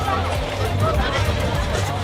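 Dense crowd babble fills a busy local fair in America, a continuous close murmur of many overlapping voices with no single sound standing out.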